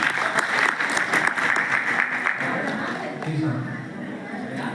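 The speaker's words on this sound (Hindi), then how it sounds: "सिल्वर स्टार के सम्मान में जोरदार तालियां हो जाए।" Loud, dense applause from an audience at a company plan meeting honoring silver star achievers, steady for several seconds and then fading, with a voice talking over it near the end.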